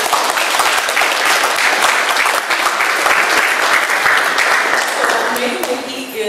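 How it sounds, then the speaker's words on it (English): An audience at an art talk gives a full round of applause, dense steady clapping that tapers off at the close. "I think we should all give them a round of applause."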